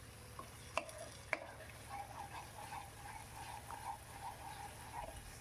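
Fried potatoes stirred in spiced oil for a Bengali boal fish curry, with a spoon scraping and clinking against the pan over a soft, steady sizzle.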